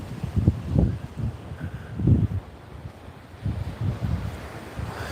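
Gentle waves washing onto a beach at night, the surf flat and calm, heard as a few soft low swells rising and falling under steady wind noise.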